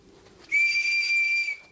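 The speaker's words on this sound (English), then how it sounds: "I'm just going to blow my whistle" A single whistle is blown sharply for about a second, a loud, steady, piercing tone that rises out of a quiet outdoor background during a Camel Trophy event in Tanzania and Burundi.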